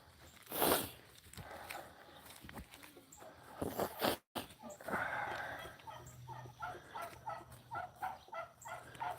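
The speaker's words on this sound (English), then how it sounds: "There's the turkeys making more noise." Turkeys gobble repeatedly in a loud, clustered burst near the start, then keep calling in a rapid, rhythmic stream over faint background noise.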